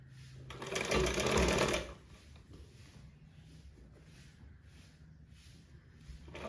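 A sewing machine runs in one loud, steady burst of about a second while stitching the cross piece onto a blouse neck, then stops and leaves a quiet room with faint, soft handling noises.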